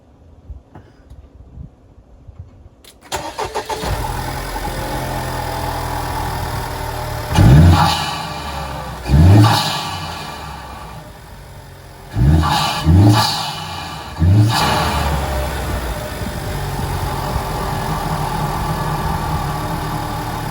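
A Honda Civic Type R FK8 fitted with a PRL high-volume intake starts up, settles into a loud idle, then gets several sharp blips of revving in close succession.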